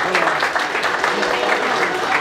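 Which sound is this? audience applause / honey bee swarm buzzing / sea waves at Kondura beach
audience applause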